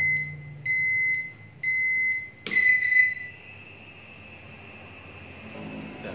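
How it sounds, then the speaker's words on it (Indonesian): A Bakersfriend Ultra oven's electronic timer beeps in two loud, steady bursts, then a sharper shrill tone rings out and fades into a long, quieter sustained whine. "ini buat timer alarm ya"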